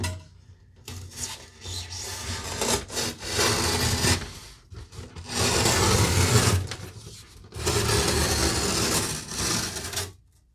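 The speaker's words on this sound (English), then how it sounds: "I'm doing the fiberglass side up so I can cut through the fiberglass." A blade saws through polyiso foam board with its fiberglass facing up during a basement insulation install, giving three long, loud, rasping cutting strokes separated by brief pauses, close up with no talking.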